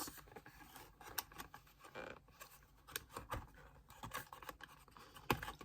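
Cardboard door of a Lancôme beauty advent calendar being pried open, a run of close, dry scratching, tearing and crinkling clicks with irregular sharp snaps, no talk.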